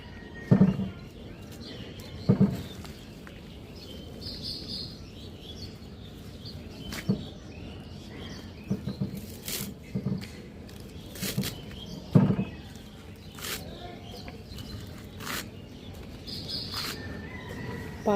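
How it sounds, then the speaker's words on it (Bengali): Birds call outdoors near a rooftop in spring, brief chirps and tweets scattered over a quiet ambient background, with a few louder low thumps standing out. "পাখির ডাক"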